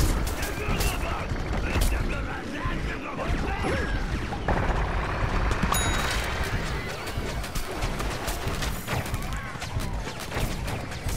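Dense, continuous gunfire and impacts from a Plants vs. Zombies Garden Warfare 2 match, loud and chaotic throughout, with voices talking over the shooting.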